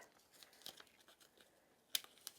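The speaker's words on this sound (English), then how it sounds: "lift this up, remove my tape" Masking tape peeled off a card after stamping during card making, a few quiet scattered tearing crinkles with one sharper rip near the end, faint and close.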